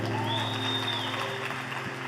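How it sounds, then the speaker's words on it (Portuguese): A church congregation at a celebration service applauds briefly, a soft wash of clapping under sustained musical tones that eases slightly toward the end. "Vamos aplaudir Jesus"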